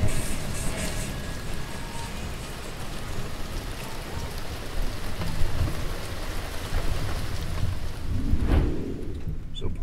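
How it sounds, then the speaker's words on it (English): Heavy rain pours steadily during a thunderstorm near Buffalo, New York, a dense hiss with low rumbling thunder beneath it that swells toward the end. "It's storming out for Steve's birthday."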